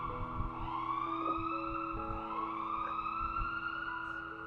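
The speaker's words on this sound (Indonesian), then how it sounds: "Lalu ambulans itu pun bertugas mengantar pasien menuju rumah sakit." An ambulance siren wails in a steady rising and falling tone, loud and continuous, at a railway crossing where a train has struck a vehicle.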